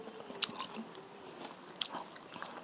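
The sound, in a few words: biting and chewing food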